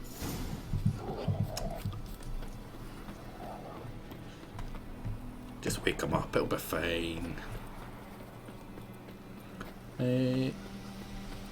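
Soft, rhythmic clip-clop of horse hooves in The Witcher 3 video game, with scattered clanks and rustles, briefly interrupted by a person speaking, fairly quiet overall.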